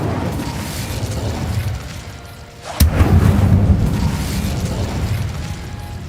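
An Incendio fire spell going off in the Hogwarts Legacy video game: a sudden sharp blast partway through, followed by a loud, rumbling burst of flame that holds over steady background sound.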